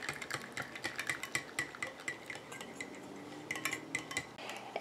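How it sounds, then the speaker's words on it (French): A rose face cream emulsion is stirred in a small container, making quick, light, rhythmic clinks and scrapes of a utensil against the sides, close and fairly faint, with no talking. "Et je continue à mélanger comme ça jusqu'à ce que mon émulsion épaississe et refroidisse."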